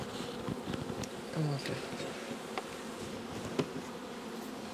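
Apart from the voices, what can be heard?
honeybees buzzing around a swarm at the hive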